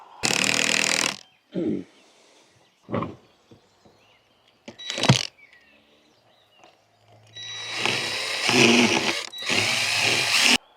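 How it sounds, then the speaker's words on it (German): A power drill drives screws into a wooden raised bed, heard close and loud as one buzzing burst at the start, a few short knocks and spurts, then a long, sustained whirring run near the end. "Machen wir mal ein paar Schrauben rein, sonst das nicht alles wieder abpasst."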